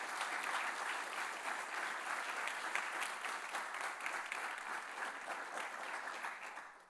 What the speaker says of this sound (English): So if you please join me in giving them a round of applause and thanking them